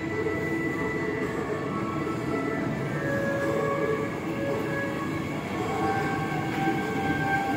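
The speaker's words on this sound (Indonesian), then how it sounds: "KRL jurusan Jogja Solo sudah datang." KRL commuter train on the Jogja–Solo line arriving at a station, a loud steady rumble of railcars rolling in with faint tonal hums and no talk.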